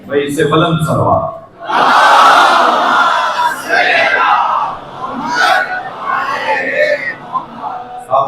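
Large religious gathering of a crowd loudly reciting salawat together, a dense roaring chant of many voices swelling and fading in waves, with a single voice audible at the start.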